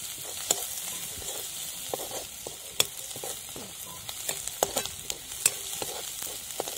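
Onions sautéing and being stirred in a pan for a spicy Maharashtrian shev bhaji, with a steady sizzle of frying and repeated sharp scraping clicks of the spoon, close and alone.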